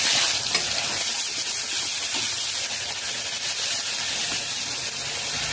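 Onion paste frying in hot oil with whole cumin, green chillies and whole garam masala for a Bengali katla fish curry, giving a loud, steady sizzle and hiss with faint stirring throughout and no talk.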